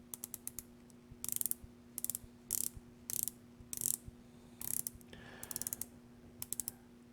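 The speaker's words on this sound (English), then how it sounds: "listen to the nice robust bezel action" The unidirectional bezel of a Glycine Combat Sub dive watch ratchets in quick, crisp clicking runs, several turns in succession with short pauses between, close up and alone.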